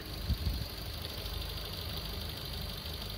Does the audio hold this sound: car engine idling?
yes